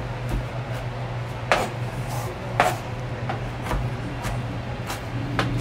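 Fresh lettuce being chopped finely with a knife on a board, several sharp separate cuts at an uneven pace over a steady low background hum.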